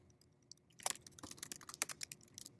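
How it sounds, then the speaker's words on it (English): Quiet clicking of keys on a computer keyboard, a run of quick uneven taps that starts after a short silence and continues steadily. "I'll begin typing."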